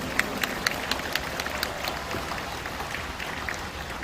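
A large audience claps steadily to welcome a Buddhist monk at his inauguration ceremony as head of the Jogye Order, a sustained crowd applause with a few sharper individual claps standing out near the start.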